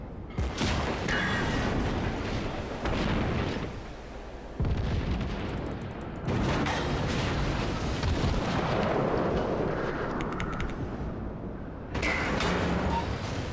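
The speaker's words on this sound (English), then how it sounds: "He was shooting AP at me. Did you hear that, guys?" Armor-piercing shells fired in the naval battle game World of Warships, heavy booming cannon salvos and blasts in several loud bursts with short gaps between them, while a voice talks over the gunfire.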